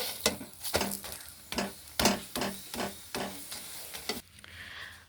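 Muli paratha toasting on a hot pan, a series of soft scraping and pressing strokes at a steady rhythm over a faint sizzle, close and fairly quiet with no talking.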